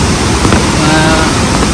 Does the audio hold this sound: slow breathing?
no